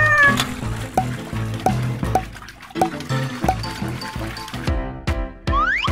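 Kitten meowing in a children's pretend-play setting, with several short high mews repeated at a quick, uneven pace, close and loud, mixed with bright toy-like and splashing sounds.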